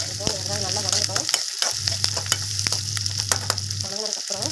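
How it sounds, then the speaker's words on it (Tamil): Onions frying in oil for a tomato chutney, a steady close crackling sizzle with faint stirring clicks running through the whole stretch and no talk. "இப்போ வெங்காயம் நல்லா வதங்கட்டும்."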